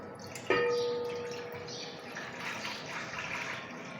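Tamarind water poured into a cooking pot while making imli and aloo bukhara sharbat, a steady liquid splash starting with a sharp onset and continuing as a running pour, fairly close.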